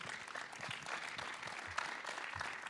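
An audience at a hemp industry congress applauds two guest speakers, producing a soft, continuous patter of clapping that sounds fairly distant and low in level, with no voices over it.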